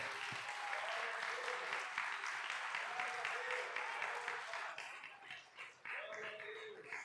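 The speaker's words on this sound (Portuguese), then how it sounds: "Aplauda o Senhor aqui" A church congregation at a service applauds the Lord, steady dense clapping from many hands that sustains for several seconds before thinning briefly and picking up again, with voices mixed in underneath.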